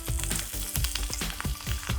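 Clams and basil leaves sizzling and frying in a hot wok with Chinese wine, a loud continuous crackle broken by repeated scraping stir strokes, with no talking.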